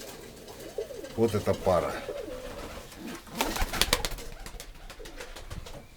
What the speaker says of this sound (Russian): Вот мой мурой голубь.